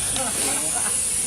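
Steam hisses steadily from a burner-fired steam engine, a broad, continuous rushing noise close by with a faint voice underneath.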